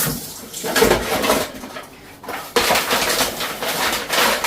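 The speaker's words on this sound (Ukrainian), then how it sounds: "зараз я швиденько в режимі нон-стоп мию оцей посуд" Running water splashes steadily while dishes clatter and clink underneath, the stream surging in bursts.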